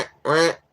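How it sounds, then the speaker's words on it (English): A single loud, nasal quack from a female duck, a hen, close and clear, lasting about a quarter second and heard alone. "the quack everyone associates with ducks, fun fact, only made by female ducks"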